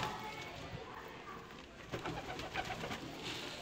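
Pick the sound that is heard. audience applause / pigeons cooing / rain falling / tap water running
pigeons cooing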